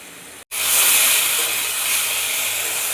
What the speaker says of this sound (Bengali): সবজিগুলো ভালো করে ভেজে নিতে হবে।